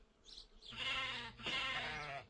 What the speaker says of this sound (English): Here is a sheep.